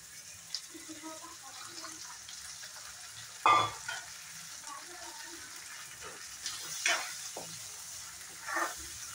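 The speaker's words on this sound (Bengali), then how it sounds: "পেঁয়াজের সাথে ডিমটা খুব সুন্দর করে ফ্রাই করে নেব।" Eggs fry with onion in a pan, a soft, low sizzle near the cook with a few brief louder scrapes or stirs against the pan, faint and mostly steady.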